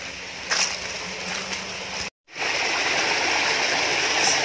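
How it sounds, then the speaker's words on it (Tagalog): A mountain creek flowing from the hills near a home water system: a continuous broadband rush of water, close and fairly loud, briefly cut off once mid-way before resuming steadily. "ito yung creek"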